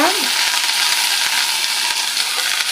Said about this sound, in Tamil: வெறும் கருவேப்பிலையை மட்டும் தான் நான் வதக்க போகிறேன்